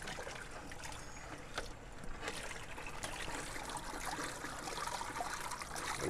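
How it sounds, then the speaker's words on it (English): Purple hull peas, already washed once, being poured into a dish pan of water, giving a steady broadband rushing and trickling splash that continues evenly throughout at moderate volume. "I'm gonna pour these peas in this dish pan."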